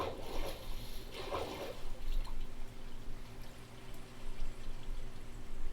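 Water in the Minecraft game pours and trickles in a steady, fairly soft stream, with a few brief splashy surges near the start.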